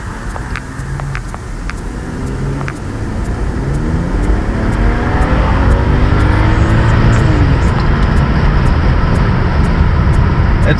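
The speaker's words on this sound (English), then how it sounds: "want to show you guys how the car sounds at stock muffler" A stock-muffler 2015 BMW 535i turbo runs outside, its engine and exhaust rising in pitch as it revs up and pulls away, growing steadily louder with a smooth, fairly subdued drone.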